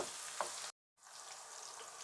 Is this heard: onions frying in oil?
yes